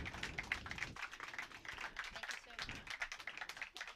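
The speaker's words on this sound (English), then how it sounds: "round of applause for the MVP from Upminster" Scattered applause for the MVP from Upminster at a women's T10 cricket match in Hornchurch, England, light uneven clapping from a small crowd with voices over it.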